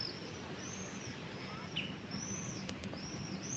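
A pigeon's wings flap briefly amid outdoor park ambience, with a few faint chirps and high calls drifting in the background.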